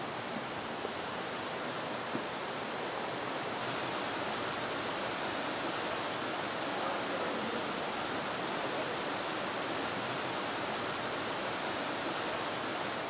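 Stream water flowing steadily nearby, a dense continuous rushing wash that holds at an even level throughout with no voices.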